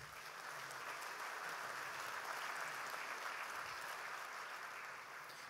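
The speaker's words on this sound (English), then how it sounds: "let's give them another round of applause" A gala crowd at a chamber of commerce dinner gives a sustained round of applause, heard faint and distant as a steady, even wash of clapping with no break.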